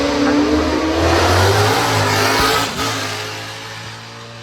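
A 1971 Shadow Mark II race car roars past at Goodwood, a loud close engine howl that drops in pitch and fades as it moves away, with a voice faintly underneath.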